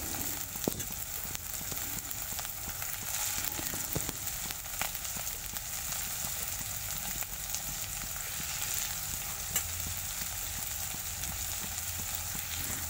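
Capsicum and carrot frying in a pan for a red lentil carrot soup, a steady close sizzle with soft crackles and occasional stirring scrapes throughout, no talking.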